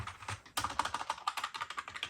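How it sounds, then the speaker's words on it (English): An old computer keyboard is typed on quickly and close up, with rapid clattering keystrokes in an uneven rhythm and a brief pause near the start. "here's our old keyboard. This is what it sounds like."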